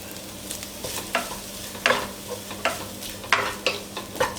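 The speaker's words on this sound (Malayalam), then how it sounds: "ഉപ്പ് ചേർത്തൊന്ന് മിക്സ് ചെയ്ത് ഉടനെ തന്നെ നമ്മൾ പൊടിച്ചു വെച്ചിരിക്കുന്ന പുട്ട് ചേർക്കുക" Crumbled leftover puttu being stirred into upma in a pan, with a steady run of scraping stirs and soft sizzling frying underneath, close and moderately loud with no talk.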